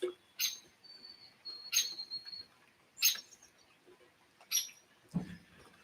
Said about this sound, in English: I hope you can hear the birds this morning.